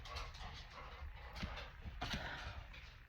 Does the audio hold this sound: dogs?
yes